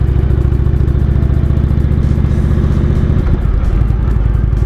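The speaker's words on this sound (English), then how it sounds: "This one's been fitted with stage 1 pipes and it breathes really nicely." A 2017 Indian Roadmaster motorcycle with stage 1 pipes, its engine loud and close with a deep, rapid rhythmic throb, dipping in pitch briefly partway through before settling into a lower steady idle-like pulse.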